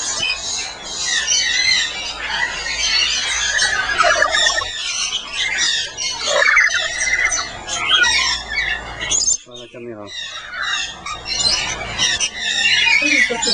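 A bird park with lush vegetation near Iguaçu, full of loud, continuous squawking and shrill calls from many birds close by, with a brief lull partway through.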